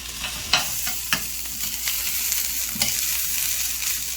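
Bacon fried rice with stir-fried vegetables sizzles steadily in a frying pan, broken by several sharp scraping and tapping clicks from stirring and flipping, close and alone without talk.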